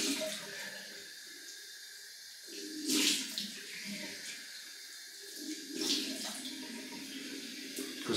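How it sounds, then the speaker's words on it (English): Tap water runs steadily at a sink while a 23mm synthetic-knot shaving brush with a flux handle soaks and a face is wetted, with a few louder splashes and surges over the constant flow. "So I'm just gonna soak that for a few seconds while I wet the face."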